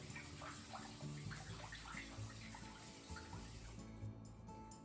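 Water sloshes and splashes steadily as rice grains are swished and stirred by hand in a bowl, a close, continuous wet churning with faint trickles.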